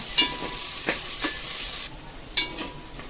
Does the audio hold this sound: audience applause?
no